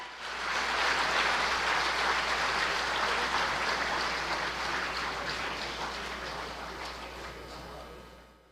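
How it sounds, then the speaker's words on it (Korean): A large assembly at a Gyeongsangbuk-do Government 3.0 forum applauds as a safety and public administration minister and the provincial governor enter. The sustained, even clapping swells quickly, holds, then fades toward the end. "여러분 큰 박수로 환영해 주시기 바랍니다."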